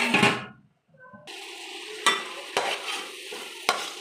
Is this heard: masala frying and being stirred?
yes